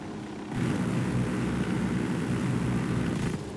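Helicopter in Ghost Recon Wildlands, armed with two machine guns and seating five or six, gives off a loud, steady engine and rotor drone that swells after a brief start and holds without voices.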